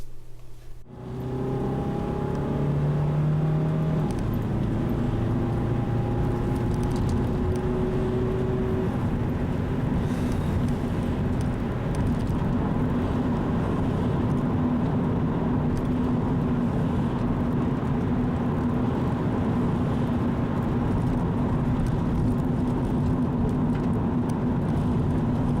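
A Subaru Legacy GX starts up and drives along rural forest roads in East Westphalia, giving a steady engine drone and road rumble from inside the car that holds even and loud throughout.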